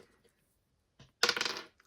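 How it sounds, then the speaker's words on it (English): Dice spun and clattering across a hard surface during a cash-stuffing savings game: a faint tap, then a bright rattling tumble lasting about half a second before settling. "we are just going to spin the dice"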